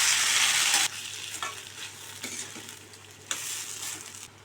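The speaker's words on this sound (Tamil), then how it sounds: "மசாலாவை சேர்த்து ஒரு பரட்டி விட்டுட்டு நம்ம வேக வச்சுக்கிற வாழைக்காவை சேர்த்து பரட்டி விட்டுக்கலாம்." Boiled green plantain is stir-fried with masala in a pan for a South Indian poriyal. A loud burst of sizzling opens, then the frying eases into quieter hissing, with repeated spatula stirs and scrapes close by and no speech.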